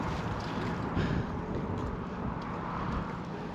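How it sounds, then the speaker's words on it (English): Wind blows across the Walkway Over the Hudson, a steady broadband rush and buffeting against the microphone, loud and unbroken with no voices. "It's windy, but at least sunny."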